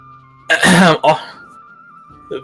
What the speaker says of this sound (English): Clear her throat from behind you.